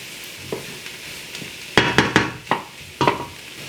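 Garlic drops into a hot pot for broccoli cheese soup and starts sizzling, with a cluster of sharp stirring scrapes and clinks over a soft background hiss and no talking.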